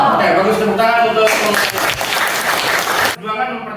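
A group in an Indonesian classroom lesson applauds in a dense, busy wash of clapping. It breaks off briefly near the end, and a voice talks over part of it.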